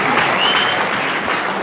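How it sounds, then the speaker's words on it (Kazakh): Loud, continuous applause from a large audience at a Kazakh Zhaidarman comedy team contest, greeting a team with dense, even clapping that carries on without a break. "Сол үшін жас сарбаздар жайдарман тобына шапалақ ұрып қойсаңыздар."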